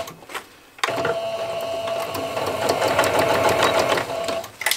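Sewing machine stitching grey fabric for an insulated kitchen basket, starting with a short backstitch: after a quiet moment it runs steadily and loudly, close up, with a busy mechanical whir and tapping for several seconds.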